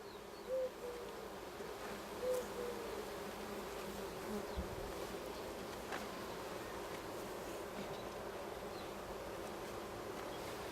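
Honey bees buzz steadily at an opened hive during an inspection of a queenless colony in Arizona, a dense continuous drone with a few louder passes close by, no talking.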